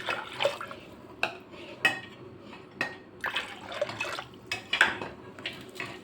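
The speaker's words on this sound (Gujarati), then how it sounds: "એની અંદર આપણે 2 કપ જેટલું પાણી એડ કરશું।" Water is poured into a pressure cooker holding soaked kabuli chickpeas, heard as close splashing and gurgling in uneven bursts mixed with light metallic clinks.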